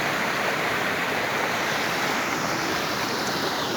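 A waterfall at Shohala Bhauni dam near Balasore roars as a loud, steady broadband rush of falling water, continuous and close.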